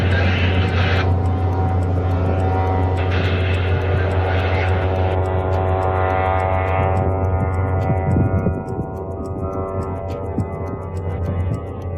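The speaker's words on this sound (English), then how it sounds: "a private jet belonging to the fugitive Yanukovych arrived to help the golden youth and officials." A private jet aircraft arriving, a loud continuous engine roar with a strong steady whine that slowly eases and fades slightly toward the end, heard alone without talking.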